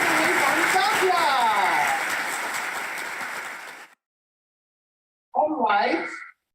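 A festival audience gives a big round of applause for a performing group from Zambia. Thick, steady clapping fades out over about four seconds, followed by silence and then a brief burst of speech.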